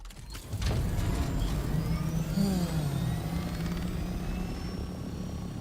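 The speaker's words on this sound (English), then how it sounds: "Just want to keep getting in the helicopter to reset the time of the sandworm." A helicopter in a video game's deep desert roars loudly with steady rotor and engine noise that starts abruptly and holds, with a brief rising whine partway through.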